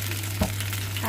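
Fish sizzles in hot oil in a pan while being fried for a Hong Kong-style papaya fish soup, a steady close crackle with a low hum underneath and one brief louder pop, no voices.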